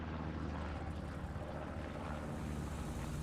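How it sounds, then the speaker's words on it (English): Steady propeller drone of a hostile recon plane passing overhead in Hell Let Loose, a constant broad engine hum with no breaks, moderately loud and unchanging. "That's gonna be a hostile recon plane, so that's gonna be from XENO."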